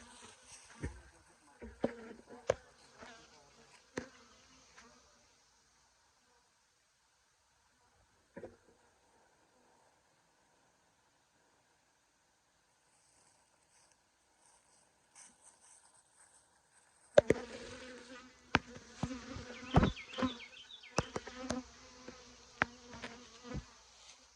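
Bees buzzing inside a house during bee removal, heard as intermittent close buzzing bursts, a long quiet stretch, then denser, louder buzzing and activity near the end.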